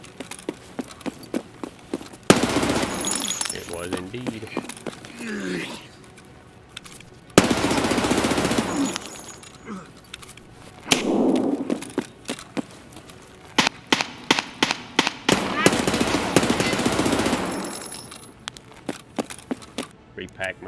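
Rapid bursts of automatic gunfire from a PMC in the shooter game Escape from Tarkov, loud, sharp volleys repeating through the clip, with someone talking over parts of it.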